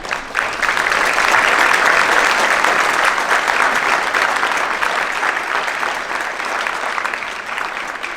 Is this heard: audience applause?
yes